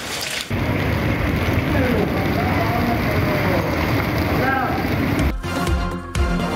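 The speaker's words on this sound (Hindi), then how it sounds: "इस्लामाबाद में तेज हवाओं के साथ एक बार फिर बारिश" Heavy rain pours steadily with strong winds in Islamabad, a dense, loud hiss of downpour that continues throughout and is briefly interrupted near the end, with faint voices mixed in.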